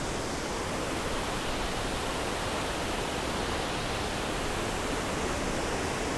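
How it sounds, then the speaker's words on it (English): A waterfall and the cascade beside it pour in a steady, dense broadband roar that holds even and loud throughout, with no voices. "now we can see this cascade and at the same time the waterfall as well"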